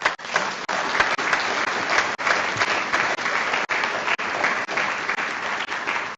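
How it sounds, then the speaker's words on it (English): Audience applause for young scholars at an awards ceremony, a steady, full burst of clapping that fills the whole stretch, with a few brief dips between swells and no voices. "let us acknowledge the young scholars by giving them a round of applause,"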